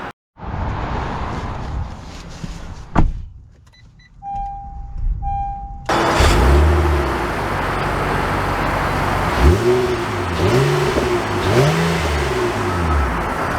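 A 2023 Honda Ridgeline HPD pickup door shuts and a chime sounds before the engine starts, then a steady, near interior hum and road noise with a few revving swells as the truck drives off.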